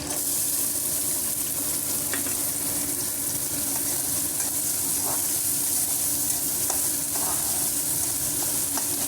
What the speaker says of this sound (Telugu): ఇప్పుడు ఉల్లిగడ్డ కూడా వేసేసుకుందాము.